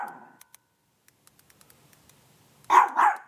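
A dog in a home gives two loud, close barks near the end, after faint ticking sounds and a brief murmur at the start.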